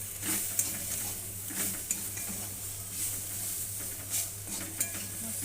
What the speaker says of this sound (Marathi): आता आपण भाजून ठेवलेलं जे कारलं होतं ते छान मिक्स करून घ्यायचं